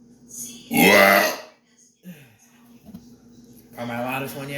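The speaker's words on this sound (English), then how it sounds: "Hey, what do you think of my burps?" A loud, long human burp bursts out near the mic, followed by a shorter, quieter one and then a voiced, belch-like sound toward the end.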